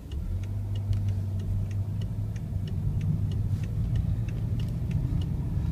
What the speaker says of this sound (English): The car ride's very smooth.